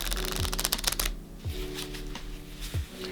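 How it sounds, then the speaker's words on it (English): Playing cards riffle-shuffled by hand, a fast close-up burst of flicking card edges followed by softer squaring taps and several quick bridge-like sweeps, with no talking. "a different riffle shuffle grip than the one that I taught on the Guide to Shuffling Cards video"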